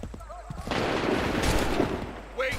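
Musket volley in Assassin's Creed: a massed crackle of gunfire swells into a dense, sustained roar lasting a couple of seconds amid battlefield din, with brief shouting at the start and end.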